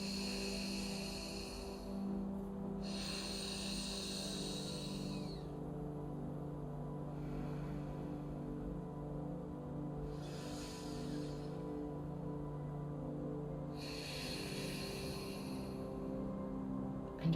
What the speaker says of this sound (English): take my pinky, block the right nostril, exhale through the left